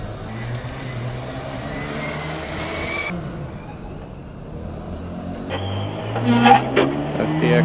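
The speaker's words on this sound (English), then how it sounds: "we can hear the brakes make that noise, the Chewbacca noise, every time the car slows down" Brakes on a Formula Student autocross race car squeal with a groaning, Chewbacca-like moan as it slows, among passing car noise at an outdoor track event; the tone rises and wavers, louder near the end.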